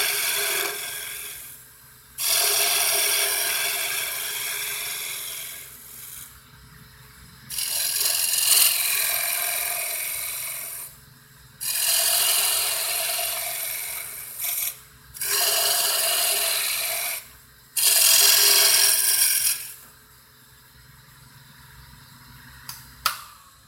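A lathe roughs out a wooden column, with loud scraping and rasping bursts from the tool biting the spinning wood, repeated passes of a few seconds each separated by short quieter gaps where the motor hum carries on.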